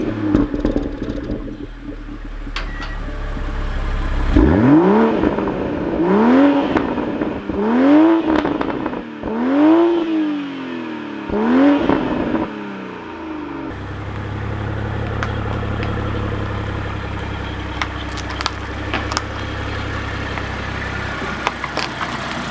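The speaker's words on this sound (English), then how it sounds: "I have to put my foot on the brake and push the push start" A Toyota Supra engine starts by push button, then gives a series of about six rising and falling rev blips before settling into a steady idle with small clicks on top.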